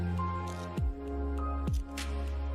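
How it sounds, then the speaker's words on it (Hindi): Tomato puree made from fresh tomatoes is tipped into chicken frying in a pan, giving two soft, wet squishing plops within a couple of seconds over a steady background hum. "अब हम इसमें टोमेटो प्यूरी डालेंगे"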